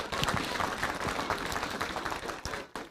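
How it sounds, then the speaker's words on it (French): Audience applause at a mayor's New Year greetings ceremony for a longtime town greengrocer, a steady mass of hand claps, moderately distant, with no clear voices over it. "On peut l'applaudir aussi"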